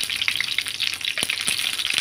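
Dry red chillies sizzle in hot oil in a pan, tempering for an ivy gourd chutney: a steady, close crackling fry with a few sharper pops and spits.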